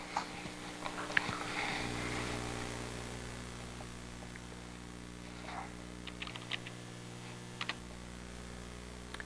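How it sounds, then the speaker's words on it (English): Keystrokes on a computer keyboard during a web development class demonstration of a search box, a sparse run of light clicks over steady mains hum and room noise, fairly close, with no talking. "And I start typing."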